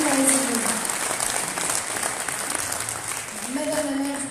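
A seated audience at a constituency New Year's greetings event applauds steadily with dense, sustained clapping, while a voice speaks over the start and end.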